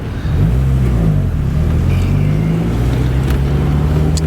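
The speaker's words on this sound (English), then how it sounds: "The way it free revs," A 1991 Mazda MX-5 Miata engine free revs loudly, pitch rising and falling in steady sweeps, close and continuous with no talking.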